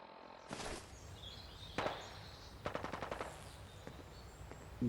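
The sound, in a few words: gunfire in video game Fallout: London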